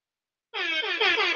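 An air horn sound effect played by an Alexa smart speaker gives one loud, sustained blast that starts abruptly after a moment of silence.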